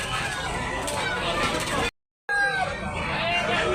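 Chickens and gamecocks at a Cebu market cluck and call amid crowd babble, with people talking nearby; the sound cuts out briefly to silence midway, then resumes just as busy.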